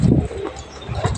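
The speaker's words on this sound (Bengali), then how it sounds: "এই যে সব উড়ে যাচ্ছে 7টা পায়রা।" Seven domestic pigeons released from a rooftop give a short, close burst of flapping and cooing, loud at the start and then fading.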